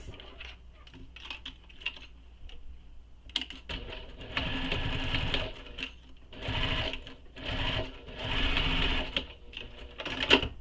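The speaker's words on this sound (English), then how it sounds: "And then we will top stitch this." A sewing machine top stitches a fabric waist pack, its needle whirring in several bursts of steady running separated by short pauses and faint handling clicks.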